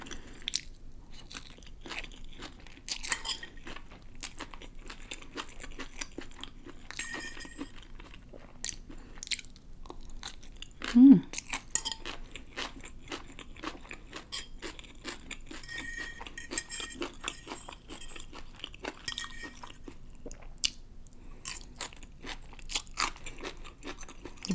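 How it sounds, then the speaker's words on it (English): Crunchy chewing of pancit bihon rice noodles with pork and crisp, not overcooked vegetables, soft close bites and crunches at an irregular pace, with occasional light clinks of utensils on a dish. "The vegetables are crispy. They're not overcooked."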